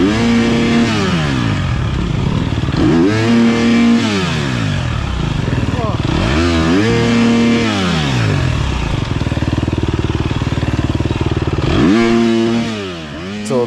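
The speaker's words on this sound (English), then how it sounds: "You can see I do some wheel spinning for a minute here." A dirt bike in an off-road race stalls against a tree root, its engine revving hard in repeated rising and falling bursts as the wheel spins, loud and close throughout.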